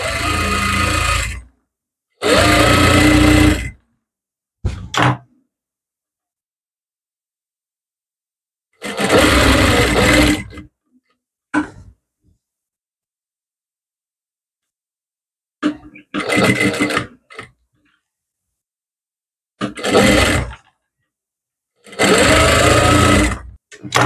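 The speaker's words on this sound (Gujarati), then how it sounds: "આમાં હું તો અહીંયા પાકી સિલાઈ લગાવી દઉં છું" An electric sewing machine runs in several loud bursts separated by silence as it puts permanent stitching along a dress's V-neckline; each run lasts one to two seconds.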